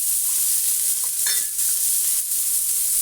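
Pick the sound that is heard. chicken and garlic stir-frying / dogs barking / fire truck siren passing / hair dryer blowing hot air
chicken and garlic stir-frying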